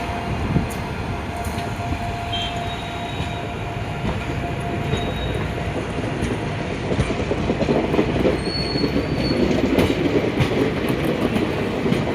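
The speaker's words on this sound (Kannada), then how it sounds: "ಹಂಗ ಟ್ರೈನ್ ಮುಂದೆ ಹೋಗ್ತೀರಿ" A train rolls along the track with a continuous rumble, rhythmic wheel clatter and occasional high squeals from the wheels.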